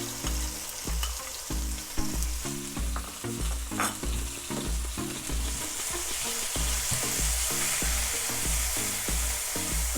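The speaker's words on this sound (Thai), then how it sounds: "ใส่เครื่องที่โขลกไว้นะคะ ลงไปผัด" Pounded curry paste for a beef and shrimp-paste stir-fry sizzles steadily in hot oil, with a constant crackling hiss and rhythmic scraping of a spatula against the pan.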